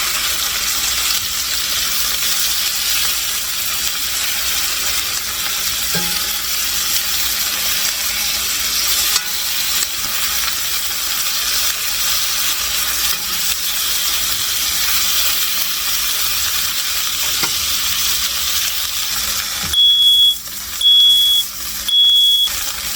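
Chicken pieces frying in a pan for chicken vegetable soup, with a steady, close hiss of sizzling oil throughout. Near the end come several short high beeps.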